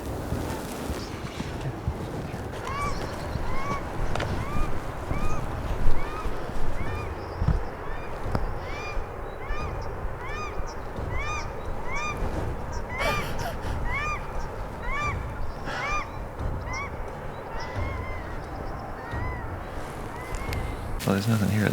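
Ducks call repeatedly from some distance during an outdoor hunting outing, a steady series of quacks over wind and rustling, with people talking quietly in between.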